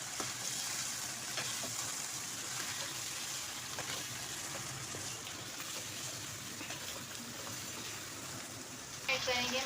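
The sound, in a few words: chicken frying, stirred with ginger garlic paste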